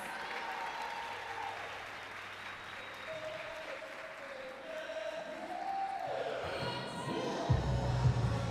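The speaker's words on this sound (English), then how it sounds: "make a round of applause for my good friend" A crowd at a high school basketball awards show applauds a guest, with steady moderate clapping and some crowd noise, plus a few low tones and thumps toward the end.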